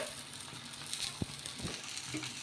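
Egg paratha frying in oil in a pan, giving a soft steady sizzle with a brief louder crackle partway through and faint clatter of handling, no voices.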